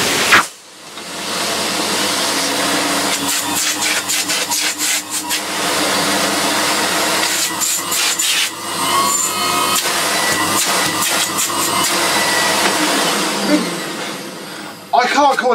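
A vacuum cleaner runs loudly and steadily, with its suction pitch shifting and fluttering as the hose is moved, then it shuts off.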